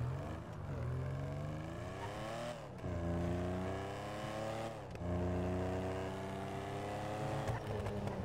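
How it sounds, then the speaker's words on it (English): Benefactor Stirling GT sports car engine in GTA Online, revving and accelerating through several gear shifts with rising pitch and brief drops between gears, fairly quiet and steady, no talking. "just listen of how nice this car sounds"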